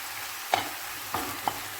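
A spoon stirs spices into a pot for a Turkish ovmaç soup, giving a soft sizzle with three distinct scraping strokes against the pot, close and clear with no talking.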